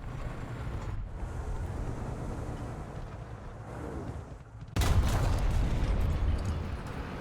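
A T-62M-1 tank cannon in a video game booms once, a sharp loud blast partway through that leaves a broad rumbling roar behind it over a steady low engine drone.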